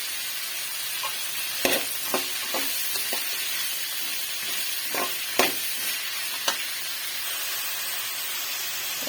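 Four garlic cloves and other ingredients for bottle gourd chutney sauté in a pan, with a constant soft sizzle broken by a few sharp scraping knocks from stirring.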